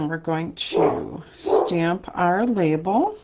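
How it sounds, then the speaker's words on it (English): A pet dog barks, whines and growls at close range indoors, yelping in several bursts over someone speaking during a card-making session. "And that's my dog barking."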